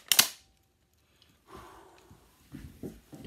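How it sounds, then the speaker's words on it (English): Gas blowback airsoft M4 rifle, a WE Tech GBBR, fires a sharp, loud single shot at the start, followed by quieter mechanical handling noises and faint rustling. "put a couple of rounds through a gas rifle"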